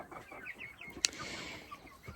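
Chickens clucking softly in a backyard flock, including bearded black birds, with a few brief calls and a sharp click midway.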